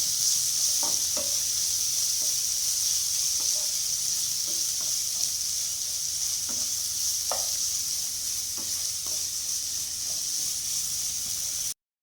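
Onions fry in a pan over low heat for fish biryani, giving a steady loud sizzle and hiss with occasional soft stirring clicks and scrapes throughout.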